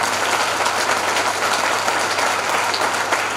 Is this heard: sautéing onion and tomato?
no